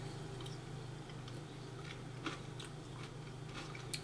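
Someone bites into and chews a steak rice salad with rosemary and garlic, giving soft, close crunches and squishy mouth sounds over a low steady background hum, with no talk.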